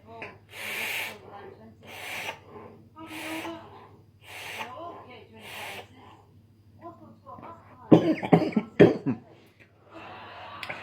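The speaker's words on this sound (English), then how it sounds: "Forgive the cough and cold." A person with a cough and cold coughs repeatedly in a run of raspy bursts, followed by a few harsher throat sounds and a brief exhale, close to the microphone.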